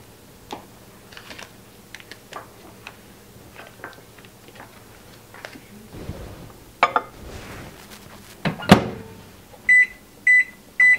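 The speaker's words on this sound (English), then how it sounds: "melt 3 tablespoons of butter in the microwave" Household kitchen clatter and small knocks, followed near the end by a microwave oven's electronic beeps, three short tones close by, after melting butter.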